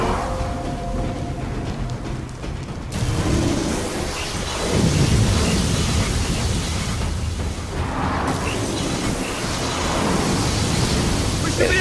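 Lightning storm in the Gears of War 4 campaign, a sustained roar of thunder and rain-like noise that swells in heavy waves, loud and continuous with no clear breaks.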